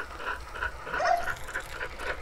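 Dog panting and whimpering in a budget indie video game, soft and close with short breathy yips in a continuous run, no talking.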